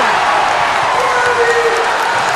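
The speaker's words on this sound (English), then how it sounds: "Yeah, even the parents got up and celebrating for that one." Home crowd at a high school basketball playoff game between Salesianum School and Sanford School, roaring and cheering in a dense, loud, continuous wash of voices filling the gym.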